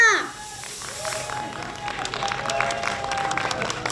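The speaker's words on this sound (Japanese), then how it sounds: "さあ、声援が飛んでいます。" An outdoor crowd at a local hero character show, IWATE Hachimantai Dynamite THE FINAL, claps and cheers in a steady, bright roar while an announcer talks over it.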